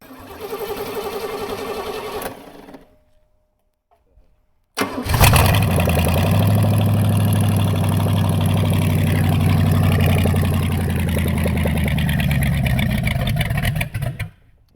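A Chevrolet S10 truck with a swapped-in engine cranks briefly, falls silent for a couple of seconds, then fires up and runs loud and steady with a strong low rumble until cutting off abruptly.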